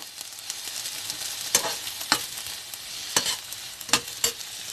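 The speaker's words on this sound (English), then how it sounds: "So I'm going to add my pepper, then I'll mix them together to fry." Plantain puff puff batter being stirred with pepper added, a soft wet mixing scrape with several sharp clicks of the utensil against the bowl, close up and steady with no voices.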